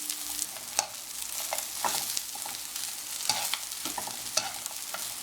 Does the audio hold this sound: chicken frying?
yes